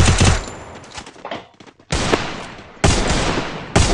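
UMP submachine gun fire in a shooting video game, rapid automatic bursts in several loud bursts separated by short pauses, close and dominant with no talking.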